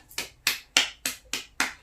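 Six sharp, evenly spaced claps for a giveaway winner, crisp and close with brief decays and near silence between each one.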